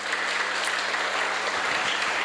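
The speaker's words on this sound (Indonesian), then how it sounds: "tepuk tangan untuk Nuril 2." A crowd claps steadily, a dense even patter of many hands throughout, fairly close.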